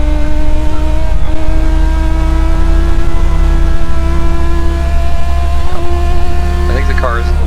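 Legends race car engine on the track at Concord Motorsport Park, holding a loud steady drone at close range, with a voice talking over it.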